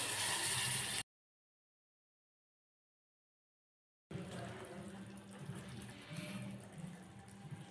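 Water is poured into a pan of spiced potato curry with fried masala, giving a loud gushing splash for about a second, then silence, then a steady wet simmering bubble under a faint background.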